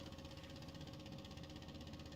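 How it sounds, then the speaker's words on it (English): A rocket or aircraft engine hums in the spaceflight game Juno: New Origins, a faint, continuous throbbing drone with a slight regular pulse and no talking. "So you guys can hear the engine"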